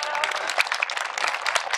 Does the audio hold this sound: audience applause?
yes